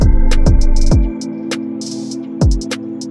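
A hip hop beat made in FL Studio plays without 808s, with a sustained melodic pad or keys, punchy kicks, and crisp hi-hat and snare hits that thin out after the first second.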